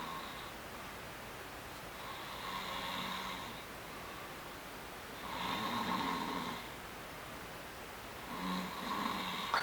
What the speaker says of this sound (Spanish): Después está el ronquido relajado, es aquel que, bueno, es ronquido, pero no suele molestar mucho a las personas que están alrededor durmiendo.